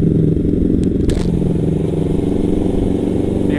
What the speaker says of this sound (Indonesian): Knalpot pakai Proliner full system. Suaranya lumayan bacot banget.